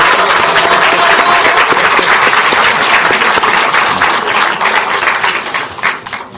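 Loud, sustained applause from a packed party assembly of lawmakers fills the room as a dense wash of clapping, holding strong before thinning and tapering toward the end.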